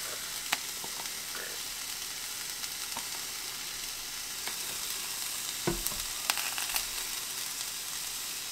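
A Reuben sandwich with sauerkraut and sauce sizzles steadily in a frying pan, a soft continuous fry with a few light clinks and scrapes of a utensil, close and fairly quiet.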